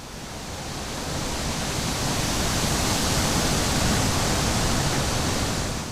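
Stage wind effect for a theatre production of The Odyssey: a broad, steady rushing whoosh that swells in over the first second, holds loud and even, then eases slightly at the end, with no voices.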